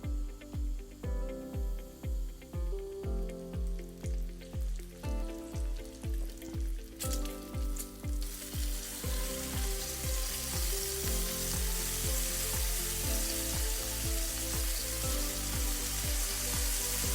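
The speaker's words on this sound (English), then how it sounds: "While that bacon is gloriously sizzling away" Bacon sizzles and spits in a hot pan, a steady crackling hiss that grows fuller and denser partway through, with no voices.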